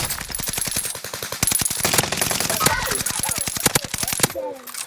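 Rapid automatic gunfire in a SWAT video game, fired in long, dense bursts of loud, sharp cracks almost without pause, with a brief quieter tail at the end.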